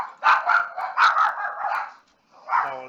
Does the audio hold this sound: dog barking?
yes